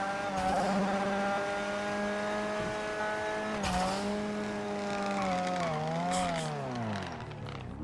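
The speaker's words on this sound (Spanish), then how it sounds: "Suena y anda de puta madre este coche." Car engine in a roleplay video game, a loud sustained motor whine with rising and falling revs, an abrupt shift midway and a pitch dip near the end, continuous and close with no talk.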